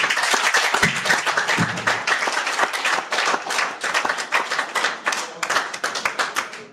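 An audience bursts into applause after a priest's talk, many hands clapping in a dense, fast patter with a few sharper individual claps standing out, loud and continuous before gradually thinning near the end.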